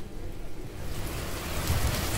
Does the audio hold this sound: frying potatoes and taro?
no